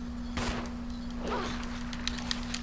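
Pistol gunshots from the video game Resident Evil Remake, two or three sharp bursts spaced across the moment, fairly quiet against a steady hum with some faint clatter.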